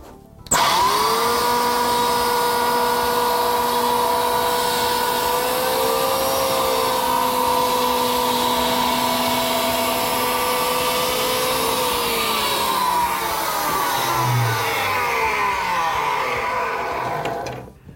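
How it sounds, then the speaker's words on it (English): Electric planer shaving the edge of an Akril decorative panel to scribe it for an internal corner, a steady loud motor whine held for about twelve seconds before winding down as the blade spins to a stop. "The ideal tool for scribing Akril panel into internal corners, or even scribing a line into it, is an electric planer."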